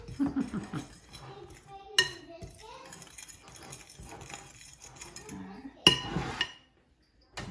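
A big salad-serving fork clinks and scrapes against a bowl while stirring dry pancake ingredients, with a few distinct sharp knocks among quieter mixing sounds and brief talk.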